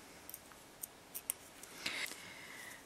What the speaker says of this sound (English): and then cut that off